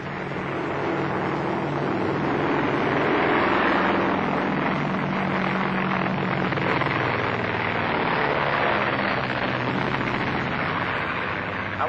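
Airplane flying, a continuous loud droning engine roar that holds steady throughout with no voices.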